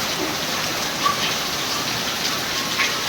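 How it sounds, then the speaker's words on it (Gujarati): Heavy rain pours down in a steady, dense hiss, unbroken across the whole stretch with only slight swells in loudness. "વરસાદ ચાલુ થઈ ગયો બહુ જ"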